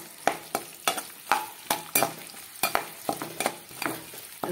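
Small onions and garlic fry in hot oil for a Madurai-style chapati kurma. A spatula scrapes and clanks against the pan in an uneven rhythm over a steady, close sizzle, with no voices.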